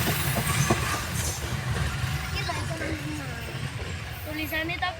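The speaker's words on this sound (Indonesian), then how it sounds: "selamat jalan kereta api Penataran, semoga selamat sampai tujuan" A Penataran commuter train pulls away from Ngadiluwih station, a steady loud rumble of rolling wheels and carriages with voices talking over it throughout.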